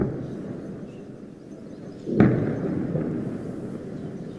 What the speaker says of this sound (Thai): เสียงระเบิดเกิดขึ้นนะคะ